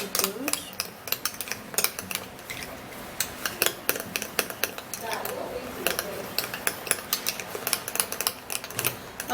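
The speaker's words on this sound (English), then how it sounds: "So now we would have to give this a stir. Mix it really good." Turmeric powder mixture stirred in a bowl: rapid, close clicking and scraping of a utensil against the bowl in an uneven, steady run, with no talking.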